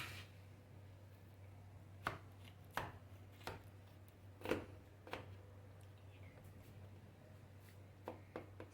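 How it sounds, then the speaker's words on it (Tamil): Homemade lasagna sliced into square portions, a knife cutting down onto the dish in sparse, faint taps and chops spread across the clip over a steady low background hum. "ஸோ நம்ம ஸ்கொயர் பீசஸில் எல்லாமே கட் பண்ணிவிட்டு நம்ம வந்து எடுத்து வைக்கலாம்."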